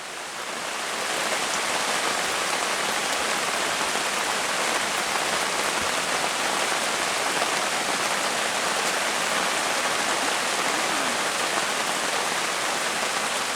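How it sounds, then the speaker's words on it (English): Steady, even rain pours down continuously in Allegheny National Forest, a dense hiss of drops with no letup and no voices. "here we go, raining away."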